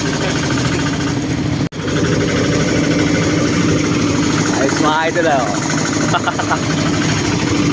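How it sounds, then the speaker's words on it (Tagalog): A small tractor engine idles in a steady, loud, close mechanical drone with a low rumble and a brief dropout, while someone speaks over it. "Tractor lang na maliit na makina."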